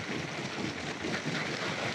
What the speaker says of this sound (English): A gusting wind.